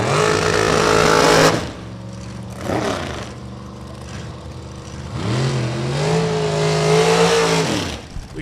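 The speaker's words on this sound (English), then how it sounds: "We got 61 dragsters in competition" Dragsters at Kil-Kare Dragway in an outlaw bracket race, loud engine roar close by for about a second and a half, then quieter idling and revving with pitch sweeps as another car builds up and accelerates toward the end.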